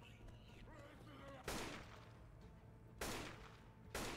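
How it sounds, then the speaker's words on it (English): AK rifle fitted with a laser sight fires in the zombie shooter Left 4 Dead 2: three loud, sharp shots at uneven intervals, separate single reports, with a player talking faintly before the first. "I love the AK with the laser sight in the game"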